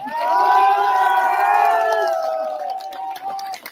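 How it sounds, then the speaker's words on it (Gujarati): A large crowd at a political rally after the Vav assembly by-election result roars in a loud, sustained collective cheer of many voices that swells, then gradually fades. "ખખડીન ખખડીન તાળીઓ પાડો ખખડીન"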